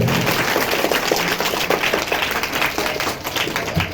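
Children at a school Republic Day gathering on 26 January clap together in a steady crowd of applause, dense and continuous for a few seconds.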